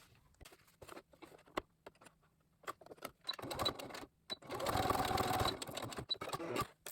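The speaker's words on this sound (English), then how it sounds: "now we're going to go to the sewing machine and sew this part and this part" A sewing machine stitching fabric for a face mask starts and stops in short bursts, then runs in a steady longer stretch of stitching, close by and fairly quiet.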